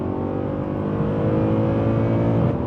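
A Mercedes C63 AMG 507 Coupe V8 revs hard and continuously, a loud, close, sustained roar with a slightly rising pitch and no pauses. The car was bought broken and has had engine issues.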